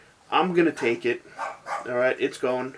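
A dog named Lady barks in the background of a casual podcast recording, with short yappy barks tangled among voices talking close to the microphone.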